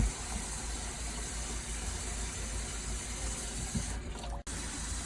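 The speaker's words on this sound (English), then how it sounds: "I'm just pouring cold water into the pot so I can handle these eggs" Cold water pours from a kitchen tap into a cooking pot of boiled eggs, a steady gushing stream that cuts off briefly near the end.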